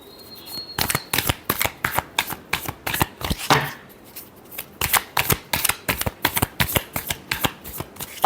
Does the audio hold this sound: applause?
no